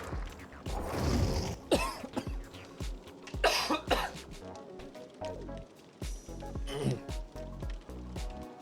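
A Dead by Daylight survivor character coughs and clears her throat in the lobby animation, in several short rough bursts over a busy game soundscape.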